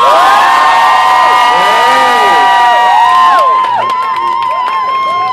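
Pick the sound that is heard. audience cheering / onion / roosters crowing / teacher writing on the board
audience cheering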